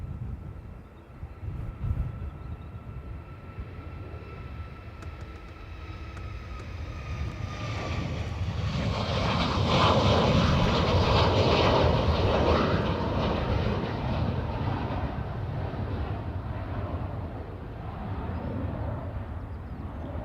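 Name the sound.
Ryanair jet aircraft engines at Dublin Airport runway 28 right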